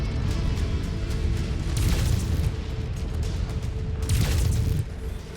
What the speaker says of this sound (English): Oh, wait, you're in an ammo explosion.